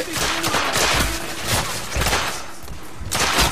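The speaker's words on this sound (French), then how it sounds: "Donc je vais vider mon chargeur bien à côté." A gun empties its magazine in The Order: 1886 video game, with a rapid run of loud, heavy shots booming close over a dense game soundscape.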